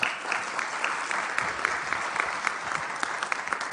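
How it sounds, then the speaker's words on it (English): Warm audience applause for lecturer Mike Drish at the W.P. Carey lecture, dense and continuous clapping from a full room, even in level throughout. "Nice warm round of applause again for Mike"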